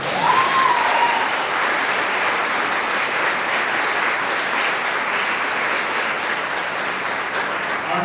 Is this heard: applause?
yes